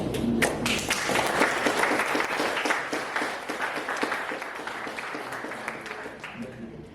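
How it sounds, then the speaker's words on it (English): Audience applause for the panelists at an industrial forum, a dense wash of many hands clapping at once, strong at the start and easing gradually over about seven seconds with no talk on top. "please join me in giving a warm round of applause to our panelists"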